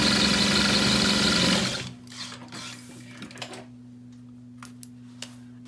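A sewing machine stitches lining pieces for a foldover clutch in a fast, dense burst lasting under two seconds, then stops, leaving a low steady hum and a few faint clicks.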